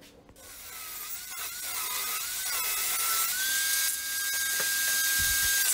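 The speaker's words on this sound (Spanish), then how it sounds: "ahí procedí a cortar mis maderas para hacer esta especie de marco" A power tool cuts old pine and MDF boards for a door frame, giving a continuous whining, grinding cut with a shifting pitch and occasional knocks, moderately close and steady with no talking.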